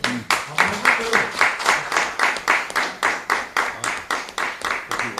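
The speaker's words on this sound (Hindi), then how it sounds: "अपन यहाँ तो ताली बजाते हुए देखे" Steady applause from an audience at a crop insurance payout event for farmers, regular clapping bursts repeating evenly throughout, fairly loud and close with a faint voice low underneath.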